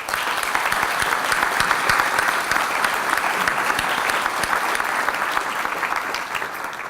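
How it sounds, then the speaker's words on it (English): An audience at a leaders and achievers event gives the teams a round of applause, with sustained, even clapping from a sizeable crowd that tapers slightly at the end. "I would personally, and I know Stephanie would too, like to give a round of applause to our teams"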